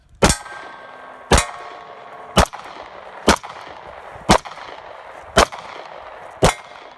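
Seven evenly spaced gunshots ring out during church security training, each a sharp crack with a metallic clang off a steel target, about a second apart with a fading ring between them.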